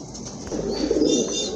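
Pigeons coo nearby in a short, low rolling murmur that swells in the middle, with faint higher chirps above.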